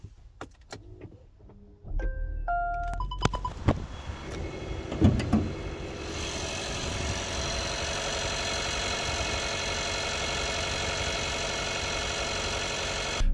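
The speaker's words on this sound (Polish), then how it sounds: "silnik dość głośno pracuje, bo jak już się uruchomi, to wchodzi na postoju na wysokie obroty i strasznie głośno zrzęzi" Dashboard chimes and a starter crank give way to a car engine faultily settling into a loud, high idle at standstill, harshly rattling and droning close and unchanging while the car stays stationary.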